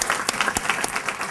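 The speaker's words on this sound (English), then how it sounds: "I don't know, Peter, you just got a bunch of artists in a room to clap for the budget guy" Applause from an audience of artists at an arts charrette meeting, a steady patter of many hands clapping close by for just over a second.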